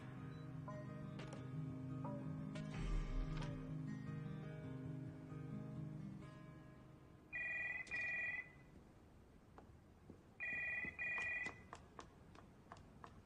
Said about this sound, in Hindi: किसी फोन उठाओ ना।